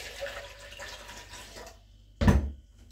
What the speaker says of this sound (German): Wir geben nämlich erstmal 500 ml Wasser